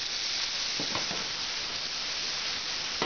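Chopped garlic and ginger sizzle in a hot pan for a Nasi Goreng, giving a steady close hiss with a few brief clicks of stirring partway through.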